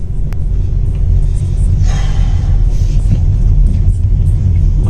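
A car engine rumbles and revs under a learner driver, a heavy low drone filling the cabin that swells slightly as it accelerates, steady and loud with no speech.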